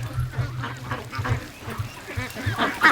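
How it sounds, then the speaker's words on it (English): Ducks at a watering station, quacking and honking repeatedly in a busy close chorus, loud and continuous with rhythmic nasal calls and some watery splashing. "I want to just show you the ducks have embraced the watering station"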